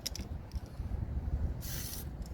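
Spray paint hissing from a can toward hydro dip water, a short soft burst of airy hiss after a few faint clicks and taps, quiet and close.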